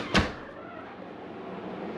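A single sharp thud of a door closing near the start of a visit to a vacation rental at Hocking Hills State Park, followed by a low, quiet room hum.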